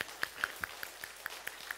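A church congregation claps in a slow, even rhythm, about nine distinct claps in under two seconds, faint and somewhat distant.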